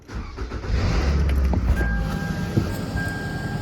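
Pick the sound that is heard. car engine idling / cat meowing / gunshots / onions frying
car engine idling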